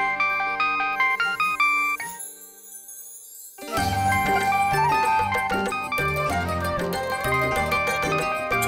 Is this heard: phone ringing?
yes